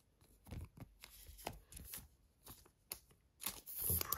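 Packaging of a Pokémon-style trading card tripack is torn open and cards are handled, giving a quiet, close series of crinkles, rips and shuffling scrapes in irregular bursts, with no voice.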